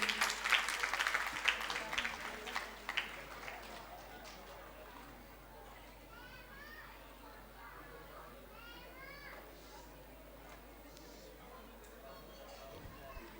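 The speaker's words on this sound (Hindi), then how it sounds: "तालियां बजा दो उन बच्चों के नियम के लिए।" An audience claps for children at a religious gathering, a burst of applause over the first few seconds that fades into a low murmur of children's voices and hall chatter.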